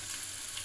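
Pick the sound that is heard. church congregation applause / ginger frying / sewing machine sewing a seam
ginger frying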